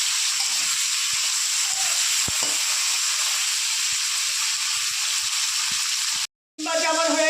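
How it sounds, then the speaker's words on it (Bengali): Flat beans frying lightly in oil: a steady, moderately loud sizzle and hiss throughout, with brief stirring clicks and a short cut near the end. "সিমটাও আমি হালকা করে ভেজে নেব।"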